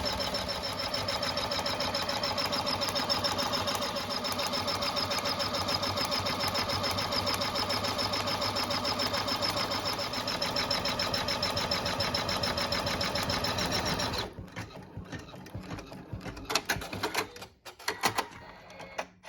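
An embroidery machine stitches a two-slot tab credit card holder in a hoop with contrasting thread, a steady rapid mechanical whirr and clatter running for about fourteen seconds before stopping, followed by scattered handling clicks.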